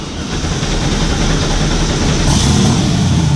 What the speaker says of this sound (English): All right, so we're gonna get Leroy warmed up.